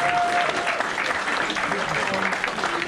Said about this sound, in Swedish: Ni applåderar